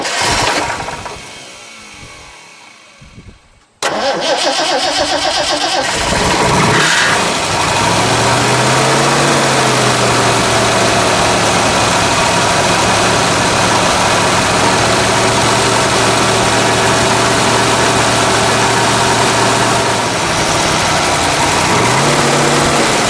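A 1969 Ford Boss 429 Mustang engine cranks, catches with a sudden loud roar, revs briefly, then settles into a rough, steady, close idle, with a short blip near the end.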